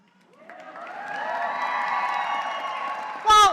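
A commencement crowd at a university graduation swells into cheering and clapping, building from quiet to a sustained roar over a few seconds, then a brief loud burst near the end.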